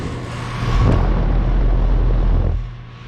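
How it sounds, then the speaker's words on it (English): A 2019 Goodman GSZ14 two-ton heat pump running in heat mode gives a steady, loud low hum with a rattling, noisy wash, swelling after a moment and easing off near the end. No one speaks. "here we have this 2019 Goodman heat pump. Running in heat mode, it's pretty rattly."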